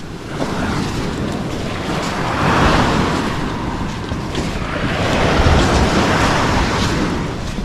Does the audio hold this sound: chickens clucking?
no